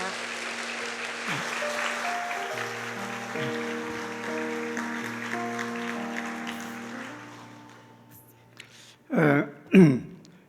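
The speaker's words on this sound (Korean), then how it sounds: "마음을 담은 큰 박수로 환영해 주시기 바랍니다." A church congregation applauds to welcome the pastor at a Sunday praise service, sustained clapping filling most of the clip under a sung or held musical note, fading out before a couple of brief voice sounds near the end.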